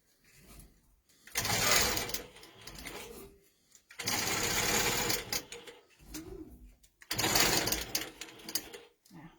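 A longarm quilting machine stitching while basting the edges of a quilt, running in three loud close bursts of rapid mechanical chatter with quieter pauses and some background voices between them.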